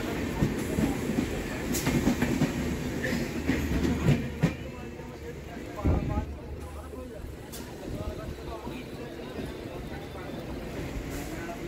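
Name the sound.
Gour Express train entering Bandel Junction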